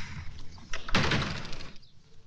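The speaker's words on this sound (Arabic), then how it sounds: "ما تقفل باب زي البني ادمين يعني انت؟" A door slammed shut in a home, a single loud bang followed by a short rattling decay, with faint indistinct sounds before it.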